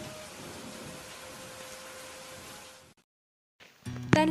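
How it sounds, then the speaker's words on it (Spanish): A thunderstorm with steady rain hiss and a low rumbling wash that cuts to silence before a sudden loud crackling burst returns at the end. "¿Entiendes que es un trueno? ¿O más bien un rayo?"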